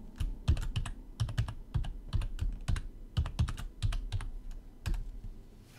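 Fingers tap out a password on a computer keyboard in quick, uneven clusters of crisp key clicks, close up with no talking.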